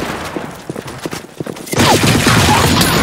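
Gunfire in the shooter game BlackShot: a sparse string of sharp shots gives way to a dense, loud burst of rapid firing and explosive noise that fills the rest of the moment.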